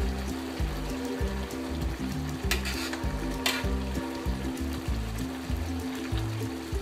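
Green chilies dropped into a pan of frying bhuna khichuri, giving a steady loud sizzle and crackle with a few brief bursts of splattering.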